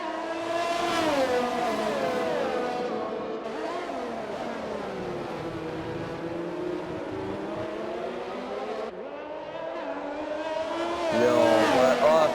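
A Ferrari race car engine in a Singapore racing video game screams at high revs, rising and falling through gear shifts, with other cars' engines layered in and a sharper surge near the end, loud and continuous.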